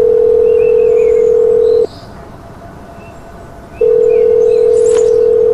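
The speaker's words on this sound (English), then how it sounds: "I'm calling the number." A telephone dial tone hums steadily, breaks off for about two seconds while the number is being dialed, then resumes, with a faint high beep near the end.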